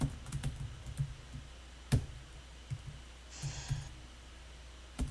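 Computer keyboard typing during an accounting exam exercise, soft irregular key clicks with a few sharper single presses, close and quiet, no talk.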